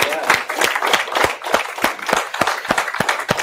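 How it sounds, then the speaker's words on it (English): An audience claps in a fast, even rhythm of sharp, close claps that continues without a break for a few seconds. "So let's give that radical a round of applause."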